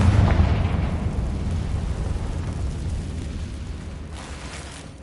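A Confringo fire spell blasting in Hogwarts Legacy, a loud booming explosion that hits hard at the start and rolls into a long rumbling decay, with a fresh burst of crackle near the end, no voices.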